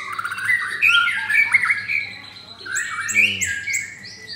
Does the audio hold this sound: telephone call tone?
no